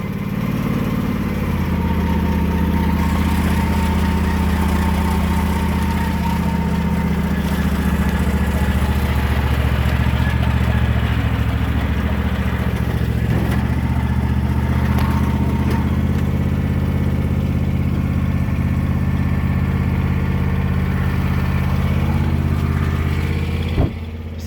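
Husqvarna TS 354XD garden tractor engine held at full throttle, a loud, steady, droning roar that runs unbroken throughout and drops off abruptly at the end.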